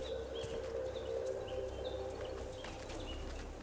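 Birds chirp in a video game scene as the sun comes out, with short repeated tweets rising over a steady ambient hum and faint clopping, all moderately quiet.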